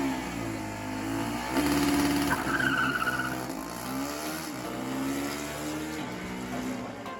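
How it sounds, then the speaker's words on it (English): Formula SAE combustion race cars accelerating down a straight at competition, engines rising in pitch with tire squeal, moderately distant and fluctuating as cars pass. "listening to the sound of engines roaring and tires squealing as cars accelerate in a straight"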